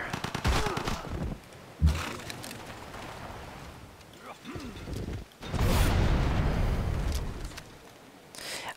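Units firing in Civilization 5 Gods & Kings, with bursts of gunfire volleys and booming rumbling impacts arriving in several separated waves, a long heavy blast near the middle, and someone talking between them.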